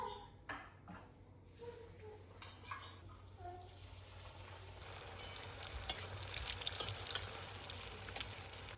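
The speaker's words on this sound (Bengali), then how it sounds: "এবার এই যে কুমড়োর চপ ভাজছি।" Pumpkin fritters frying in hot oil in a home kitchen give a soft, steady sizzle and bubbling that grows denser and louder midway, with faint scraping between.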